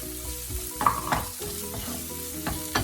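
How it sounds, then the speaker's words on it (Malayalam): Spices with turmeric powder fry in a pan for a Kerala-style chicken roll filling, giving a close, steady sizzle broken by a few scraping stirs of a spoon, and no one speaks. "അത് നന്നായിട്ടൊന്ന് ഇളക്കി കൊടുക്കാം"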